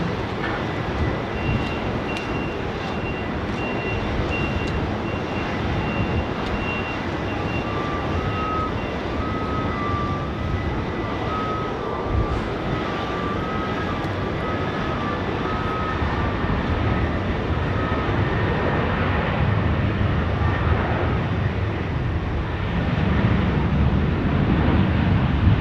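Qantas jet airliner taking off from runway 16 right at Sydney Airport, a steady, loud engine roar that holds throughout and swells slightly toward the end, heard from a distance with no talk.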